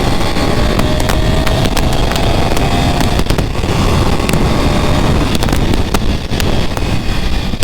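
A 1988 Honda VFR750 motorcycle engine revs loudly and steadily close to the microphone, with wind buffeting and a sustained mechanical roar throughout, no speech.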